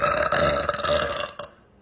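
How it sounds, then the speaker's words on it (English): A woman lets out a single loud, drawn-out burp lasting over a second, close and resonant, trailing off quickly into quiet. "Sorry, I just burped."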